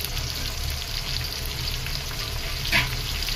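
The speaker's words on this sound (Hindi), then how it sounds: "अब ये प्याज गोल्डन ब्राउन होने तक हम फ्राई करेंगे।" Finely chopped onions fry in hot oil in a pan for a Bengali mutton curry, a continuous close crackling sizzle with one brief clink partway through.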